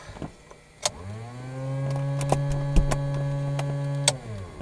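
The electric fuel boost pump of a light aircraft during pre-start checks hums steadily at close range for about three seconds, with sharp clicks of switches scattered over and around it.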